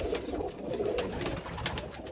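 A pigeon of the Ustad Akmal Khan bloodline coos softly and repeatedly, low throaty calls rising and falling close by, with a few sharp higher clicks scattered through and no talking.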